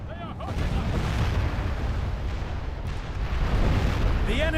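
Cannon fire rumbles through a Medieval II battle, a dense, continuous low roar of booming shots and battlefield din at steady loudness, with faint voices and horn-like tones at the edges.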